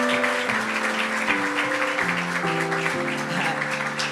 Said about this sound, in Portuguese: Por favor, uma salva de palmas, por gentileza.